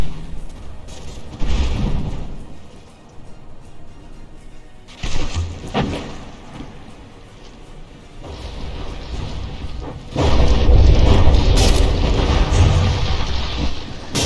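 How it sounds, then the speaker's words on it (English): High-explosive shells strike a battleship in From the Depths, and blocks break off its superstructure. The clip has several loud booms and crashing bursts with rumbling debris between them, building to a sustained heavy barrage near the end, with no talking. "Stein taking an HE hit to its superstructure there. Lots of unimportant blocks getting blown off."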